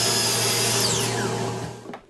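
A miter saw slices through wooden breadboards for a coffee table, a loud steady whine with a falling pitch as the blade spins down, then a quiet tail at the end. No voices.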